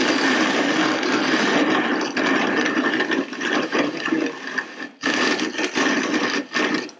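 A WonderMill electric grain mill grinds grain, set to a finer coarseness. It gives a loud, continuous mechanical whir with grinding texture that dips briefly once, then resumes.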